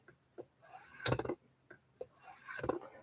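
A knife is sharpened against a 20-degree bevel guide in a garage. Two quiet scraping strokes come close by, each a short, gritty rasp, separated by soft ticks and handling taps.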